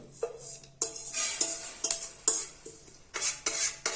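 Dry red chillies stirred and roasted in a kadai, a spoon scraping the metal pan in repeated sharp strokes with a light crackle, close and steady, no voices.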